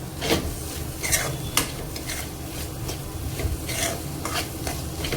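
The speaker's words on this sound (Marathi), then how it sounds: "आणि ह्याला छान परतवून घेते." Dry bombil chutney with a pinch of turmeric is sautéed over a slow flame, a soft sizzle under repeated scraping and clattering strokes of a spatula against the pan, close and without talk.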